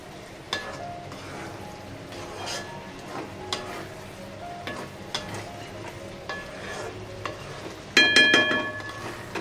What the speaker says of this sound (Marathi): आता जरासं हलवून घेऊया।